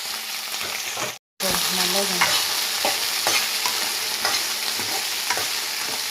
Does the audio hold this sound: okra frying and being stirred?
yes